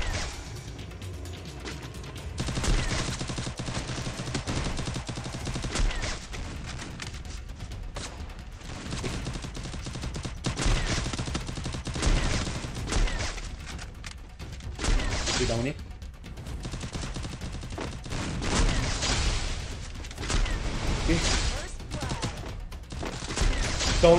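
Rapid bursts of gunfire from the Garena Free Fire mobile battle royale game, clustered into repeated volleys with crashing impacts, loud and continuous, with game sounds and voices mixed underneath.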